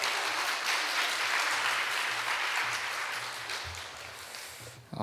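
Members of a Korean church's mothers' prayer meeting welcome a pastor with big, dense applause that holds strong for several seconds, then thins and fades near the end.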